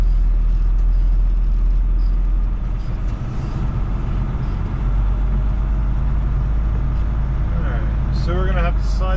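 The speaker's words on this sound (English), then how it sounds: "the truck does not like being this heavy going up that hill" A heavily loaded truck's engine drones steadily as it climbs a hill, a loud constant low rumble throughout with a brief whine and other noise near the end.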